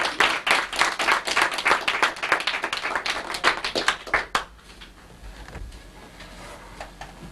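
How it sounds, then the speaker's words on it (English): A small audience applauds to thank a speaker after questions, distinct sharp claps from a modest crowd for about four seconds, then abruptly dying away into quiet room tone with faint shuffling. "Let's thank him with a round of applause here."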